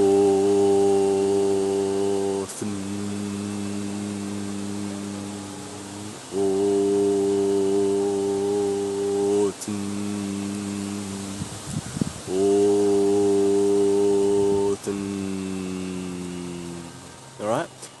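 Three long, low droned chants of a galdr vibrating the name of Odin, each a steady humming tone held for several seconds with brief breaths between, close and loud by a single voice.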